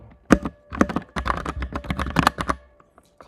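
Clicky computer keyboard keys are tapped in quick irregular bursts with brief pauses, close and fairly loud, alone without talk.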